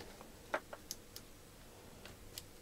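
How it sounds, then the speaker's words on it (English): Faint, sparse clicks come from the card ejection mechanism of a Zoom R16 recorder being tested after repair, a few small isolated ticks spread over a quiet background. "The mechanism is clicking and working fine."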